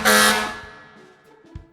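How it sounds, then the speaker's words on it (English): A single loud, blaring truck air horn blast sounds up close, then fades into a quieter tail with a faint thump. "honked and beeped angrily at her friend"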